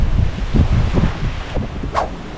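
Strong gusty wind blowing through rambutan and mangosteen fruit trees in the Philippines, rushing bursts of rustling close to the microphone with buffeting noise.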